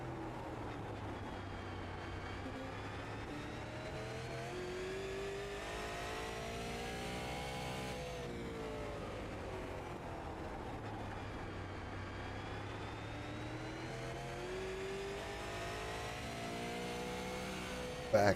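Super late model race cars at Martinsville Speedway roar around the track in a pack, engines rising and falling in pitch as they accelerate down the straights and slow through the turns, heard from a distance.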